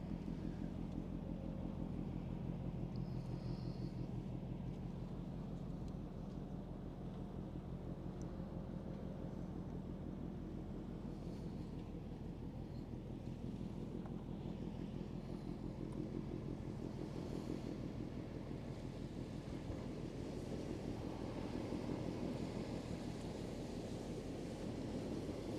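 A ship's engine on the Westerschelde gives a faint, steady low rumble, heard from a distance with a soft hiss of wind and water over it and no break in its drone.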